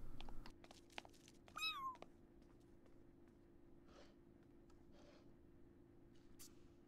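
A digital cat in The Sims 4 gives one short, rising-then-falling meow, faint against a quiet background hum with a few soft clicks around it.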